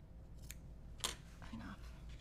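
Scissors snip once to trim a small bit of fabric bulk at a seam during quilt block sewing, a single sharp cut standing out against quiet room tone.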